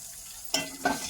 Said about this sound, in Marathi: कांदा टमाटे एक संग आपल्याला परतून घ्यायचे